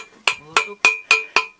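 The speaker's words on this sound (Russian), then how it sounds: "Уже молоточек чем-то постучать." Five sharp metallic taps from a small hammer during drilling work for a water line to a house, evenly spaced and ringing briefly, close and fairly loud with no talk.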